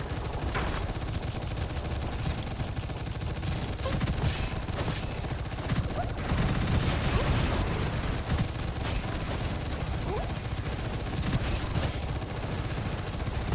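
Rapid, continuous gunfire from the first-person shooter game Gunfire Reborn keeps up a dense stream of overlapping shots and bursts throughout, loud and close, with occasional sharper reports standing out.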